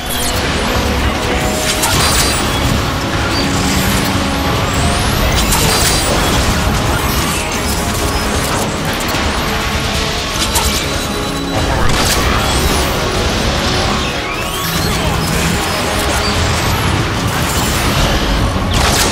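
Dense, continuous rocket blasts and crashing impacts in the Transformers: Fall of Cybertron video game, loud and overwhelming, with clanking mechanical clatter layered throughout and no pause in the barrage.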